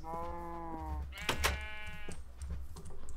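Sheep bleating at a home farm, a couple of long wavering calls close by, one after another with a short gap, over low background rumble.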